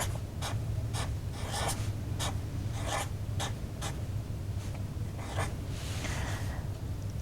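A pen scratches out binary numbers by hand, short quiet strokes in an irregular rhythm, close and faint over a soft background hiss.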